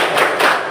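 A schoolroom class claps a short patterned spirit clap together, a couple of quick rhythmic bursts of many hands close by, loud and brief.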